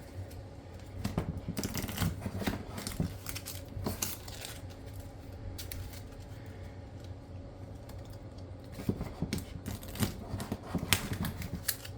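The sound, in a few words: shuffling a deck of cards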